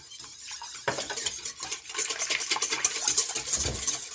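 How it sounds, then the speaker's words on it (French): A utensil stirs a batter of egg, oil, vanilla and sugar in a bowl, with continuous scraping and clinking against the sides, close and fairly loud. "mélanger afin que le sucre se dissout"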